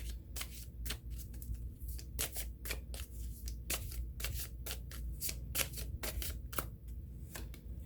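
Tarot-style cards are shuffled for a card reading, a close, steady run of crisp riffling slaps repeating rapidly for several seconds with no voices.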